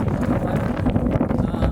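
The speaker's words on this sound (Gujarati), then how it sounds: "ટાઢો વાયરો, ઠંડી હવા છે" Cold wind blows on a mountain road, a loud low rumble of gusts buffeting the microphone, continuous and close with no clear speech.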